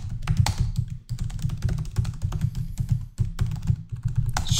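Rapid, steady keystrokes on a computer keyboard while text is typed into a distraction-free full-screen editor on a Linux desktop. The clicks are close and continuous with brief pauses, and no voice is heard.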